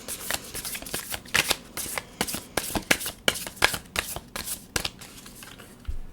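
Tarot cards shuffled by hand at close range, crisp papery riffles and taps coming in quick irregular bursts, with no one talking.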